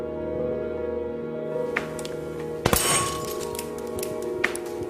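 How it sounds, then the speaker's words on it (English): A pressurized glass vessel bursts open in a laboratory, a sharp loud crack followed by a brief spray of shattering glass shards over a steady background hum, with a couple of fainter clinks afterward. "It popped open, glass flew."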